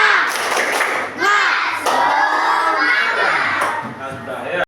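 A classroom of schoolchildren doing a rhythmic clapping chant together, loud and close, with many young voices shouting in unison over bursts of clapping and a few thumps.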